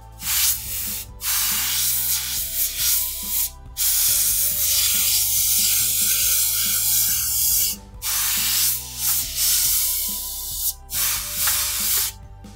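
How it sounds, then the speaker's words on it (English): Airbrush spraying paint over a stencil on a t-shirt, a close airy hiss in bursts of a few seconds with short silent gaps between passes, steady and alone. "there's some overlap right here, some overspray. So I'll overspray."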